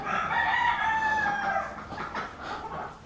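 A rooster crows in a farm barn, one long loud cock-a-doodle-doo heard close by, with a few clucking notes trailing after it and no talking.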